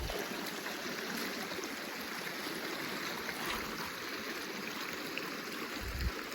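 Four Mile Creek running behind a house, a steady broadband rush and trickle of flowing water that continues evenly throughout with no voices.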